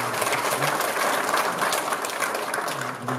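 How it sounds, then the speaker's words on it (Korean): An audience claps steadily and loudly at a ceremony in a Seoul welfare center for people with disabilities, a dense, continuous wash of many hands lasting several seconds. "우리 박수를 좀 드려야 되지 않겠습니까?"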